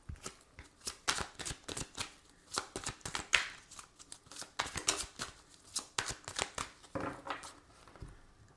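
Oracle cards being shuffled by hand, a steady run of quick papery riffles and flicks, fairly close and moderately loud, with no talking over them.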